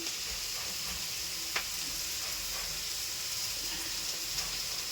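Reddened chopped onion with coriander powder sizzles steadily in a pan, a continuous even hiss with a faint tap near the middle and no talking.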